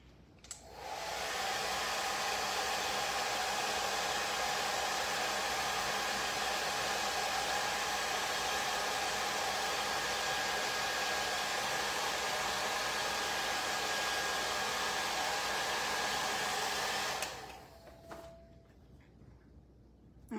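A hair dryer drying a craft disc, a steady loud whooshing roar that runs for about seventeen seconds before cutting off into quiet room noise.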